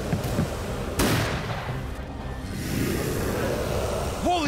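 Cannon and gunfire in an animated cartoon sea battle, with sharp blasts near the start and around one second, then rumbling booms and a strained voice cry at the end.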